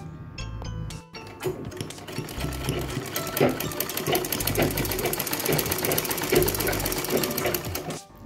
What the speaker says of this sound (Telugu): దీన్ని ఒక కుట్టు వేసుకోవాలి